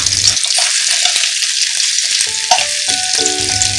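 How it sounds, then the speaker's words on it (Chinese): Eggs stir-fried in soybean oil over high heat, a loud, dense, close sizzle throughout with brief scraping and clanks as the spatula turns them in the wok. "油温120摄氏度时倒入鸡蛋， 大火翻炒约25秒"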